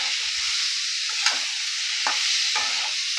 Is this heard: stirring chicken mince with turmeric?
yes